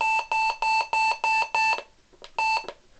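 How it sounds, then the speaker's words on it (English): A Reecom R-1630A weather alert radio sounds its warning tone, a loud, close run of six rapid electronic beeps, then a short pause, one faint chirp and one more beep. "So my last alert was a foot warning, so it did the warning tone."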